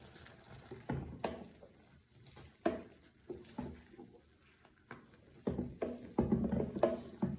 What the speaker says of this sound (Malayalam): നല്ല ഉണങ്ങിയ തവി വേണമായിട്ട് നമ്മൾ ഇളക്കേണ്ടത്. അപ്പോൾ നമുക്ക് പതിയെ ഒന്ന് ഇളക്കി കൊടുക്കണം.